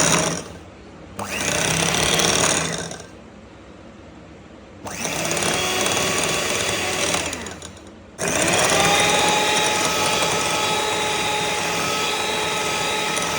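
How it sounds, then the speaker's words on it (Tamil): An electric hand beater whirs loudly while whipping eggs and sugar for brownie batter, running in three bursts separated by short pauses, with the motor pitch shifting as it works through the mixture. "இப்போ நான் இதை வந்து நல்லா பீட் பண்ணிக்க போகிறேன்."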